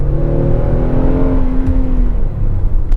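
A Kia Telluride SUV accelerates hard, its engine droning loud and close with a rising whine that climbs then fades into steady road and wind noise, with no voices.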